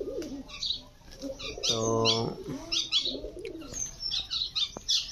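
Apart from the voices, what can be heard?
pet pigeons cooing and flapping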